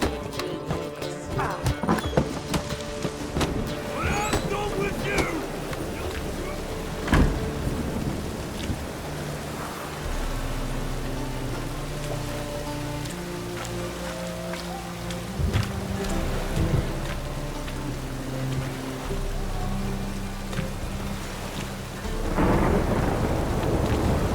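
In The Witcher 3: Wild Hunt, steady rain pours throughout with low rumbling thunder rolling in the background, joined by occasional clip-clop hoofbeats and a brief sharp crack midway.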